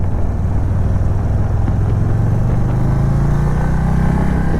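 A 2022 Indian Chief Dark Horse motorcycle on a test ride, its engine a loud, steady low drone with a hum that slowly rises in pitch as it gathers speed, with no talk.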